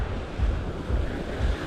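Ocean waves break on a Caribbean shore at Playa del Carmen under strong wind, a steady roar of surf with low rumbling surges rising and falling every half second or so.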